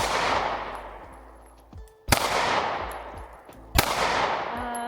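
Loud, echoing reports from a Springfield Hellcat Pro Comp pistol at a range, with sharp cracks around two and four seconds over sustained reverberant rumble and ringing tails, no talking.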